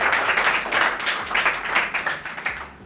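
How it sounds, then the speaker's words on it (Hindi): A crowd at a Hindi poetry gathering breaks into loud, dense applause, a continuous patter of many hands clapping close by for the whole stretch. "एक बार ज़ोरदार तालियां हो जाएं।"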